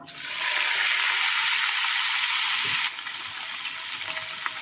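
Hot oil sizzles and crackles steadily in a wok (korai) on the stove, a loud, continuous close frying hiss that drops slightly in level partway through, with no talking.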